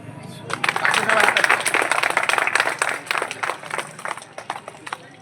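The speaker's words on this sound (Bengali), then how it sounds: "বাকি সবাই হাততালি দেন" An audience at a book launch event bursts into sustained clapping, dense and steady at first, then thinning into scattered claps, with voices murmuring underneath.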